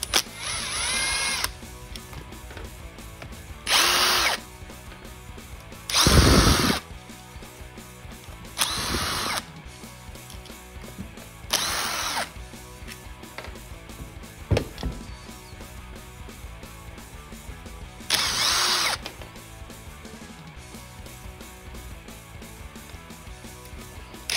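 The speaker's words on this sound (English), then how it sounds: "I'm gonna get out the little Milwaukee impact." A small Milwaukee impact driver fitted with long-reach Allen bits fires in several short loud bursts, each a second or two, spaced by quiet pauses, while fasteners on a 1982 YZ490 motorcycle are worked on.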